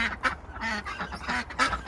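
Ducks quacking in short bursts, several calls close together, at a winter pen where their water has frozen solid; fairly near and clear with no talk over them.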